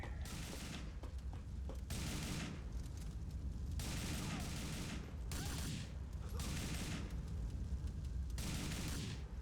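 Gunfire in the video game GTA IV, played with a Back to the Future mod, comes as repeated bursts of automatic fire at regular intervals, fairly faint and distant-sounding over a steady background rumble.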